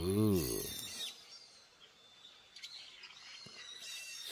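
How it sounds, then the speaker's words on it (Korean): Birds chirp in a mountain setting, faint scattered tweets over a soft outdoor background, following a brief voice-like sound at the start. "새소리에 잠시 귀 기울여 보시기 바랍니다."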